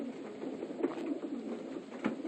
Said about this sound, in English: This is one of those Dick LaCroix pigeons